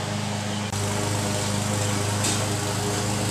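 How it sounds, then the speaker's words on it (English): Neighbor's lawn mower running in the background, a steady droning engine hum with a constant buzzing tone, fairly faint and distant, with no talking. "ignoring the sound of the lawnmower in the background"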